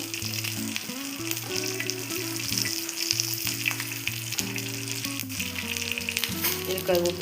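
Curry leaves crackling and sizzling in hot coconut oil for a Mangalore-style cucumber curry, a dense, loud frying hiss with steady popping and a stirring rhythm throughout.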